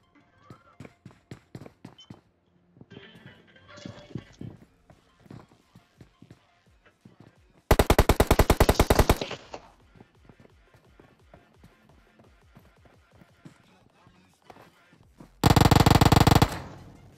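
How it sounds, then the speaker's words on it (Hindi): Automatic M4 rifle bursts in PUBG Mobile during a squad rush, two loud sustained bursts of rapid fire standing out over scattered lighter game noises and footsteps. "M4 वाला भी मार रहा है"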